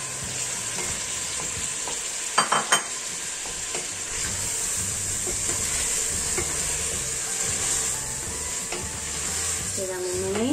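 Browned beef for a beef stew returned to the cooking pot, producing a continuous close sizzle and hiss, with a brief clatter of metal in the middle and a rising steamy whine near the end; no voices.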